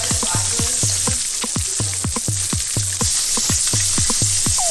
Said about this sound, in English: Essentially what you're doing is you're just letting it brown and sear on the bottom.